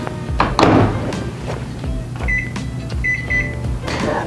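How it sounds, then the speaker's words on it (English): Microwave oven running for about a minute to warm blue corn cake batter, a steady low hum with a few thunks and clicks of the door and countertop, followed by short bright beeps near the end. "I put this into the microwave for about a minute, and this allows it to get the nice consistency"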